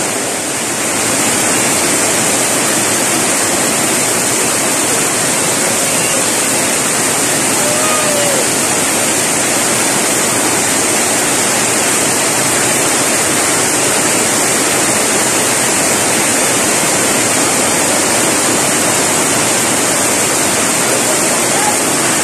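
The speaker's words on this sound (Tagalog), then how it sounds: "sobrang lakas yung ulan" Heavy rain pours down in a loud, dense, continuous roar, steady from start to finish with no breaks.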